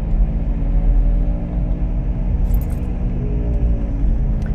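Traffic on the national road near Oued Amlil between Taza and the city, a dense low rumble of passing cars and engines, steady and fairly close, with no talking.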